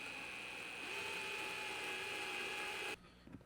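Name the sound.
power drill driving in a screw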